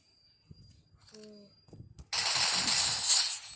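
Video game gunfire erupts as a sudden loud, sustained burst after a quiet stretch of faint clicks and short electronic tones, with a faint voice underneath.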